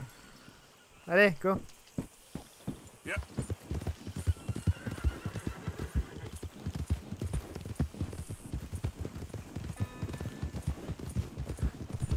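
In Red Dead Redemption 2, a horse whinnies loudly near the start, then its hooves clip-clop in a steady trotting rhythm throughout.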